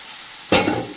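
Ridge gourd and potato curry sizzling in a pan: a steady low fry, then a sudden louder hiss and stir as something is added or moved, close up.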